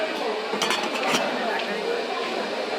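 Metal saucepans with handles clink and clatter as they are handled at a busy Dhaka trade fair stall, a few bright knocks and scrapes over a steady hum of crowd noise.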